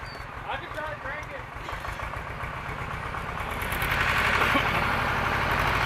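An engine cranks and settles into a steady, throbbing idle that grows louder, heard close by with people talking over it.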